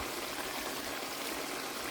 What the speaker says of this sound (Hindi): प्याली में पानी शामिल थोड़ा सा करूँगी